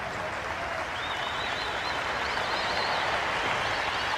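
Steady applause from a Test match cricket crowd at Kingsmead, Durban, on a sunny day, a continuous broad wash of clapping sustained evenly throughout with no pause.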